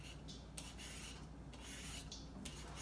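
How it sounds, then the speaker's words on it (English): Green papaya being scraped with a hand scraper for papaya salad, a steady close rasping rub in repeated strokes with brief pauses between them, no talk. "We're gonna scrape the papaya."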